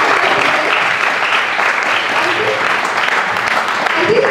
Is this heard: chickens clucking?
no